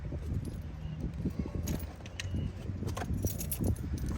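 Keys are set down with soft metallic jingles and light clicks, brief and scattered over a quiet, low background hum.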